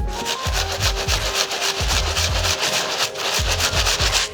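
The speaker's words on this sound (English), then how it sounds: "Just give your bottoms a quick clean." Sneaker soles get a quick scrub, a close, fairly loud rhythmic rubbing and brushing made of repeated short back-and-forth strokes that continue throughout.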